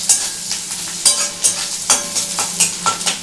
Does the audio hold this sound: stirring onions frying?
yes